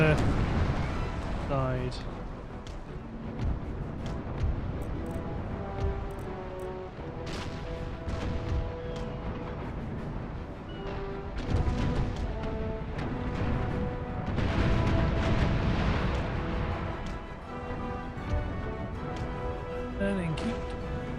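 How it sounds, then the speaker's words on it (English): Naval cannons fire chain shot in broadside volleys during a sea battle in Empire: Total War, with repeated booming blasts over a constant din of combat and music, and someone talking over it throughout. "You better fire chain shot ready to fire right into"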